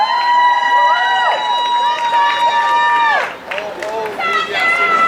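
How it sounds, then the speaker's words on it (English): Crowd cheering and clapping at an outdoor cannabis parade rally in New York City, loud and sustained, with shouts and whoops over it and people talking nearby. "I want you to give her a warm round of applause and a shout out for our sponsor"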